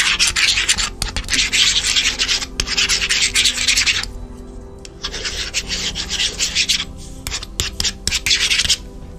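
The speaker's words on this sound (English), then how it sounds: "I'm wondering if you can even hear when I'm drawing on this." Stylus scratching across a tablet screen in bursts of dry, raspy rubbing strokes, close and fairly loud, with short pauses between strokes and no talking.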